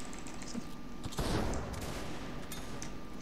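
Gunfire in the pirate video game Tradelands during a land battle: a burst of shots around the middle of the clip over a steady background din, with no voices.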